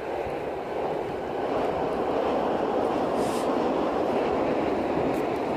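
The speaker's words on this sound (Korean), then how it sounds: "기차가 지나가는 소리예요." A train passes by during an outdoor walk in Germany, a steady, loud rolling rumble that holds for several seconds with no talk over it.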